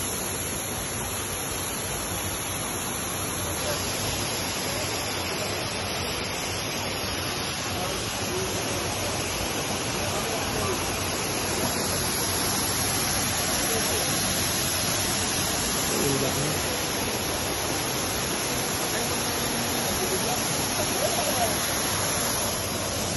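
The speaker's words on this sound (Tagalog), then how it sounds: "Ito na po ang Anito Banao Falls." Anito Banao Falls in Conner, Apayao, rushing in a steady broadband roar, dense and continuous from start to finish, with no clear voices over the water.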